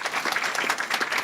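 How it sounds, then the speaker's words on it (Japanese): Audience at an international students' Japanese speech contest in Ehime gives the participants a round of clapping, brisk and even, many hands close by at moderate loudness. "もう一度盛大な拍手をお送りください。"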